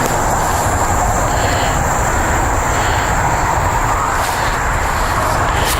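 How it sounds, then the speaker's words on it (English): Traffic on a major highway about 100 away from a forest preserve, a constant loud broadband roar of passing cars with no breaks, heard alone without talk. "those are cars going down a major highway"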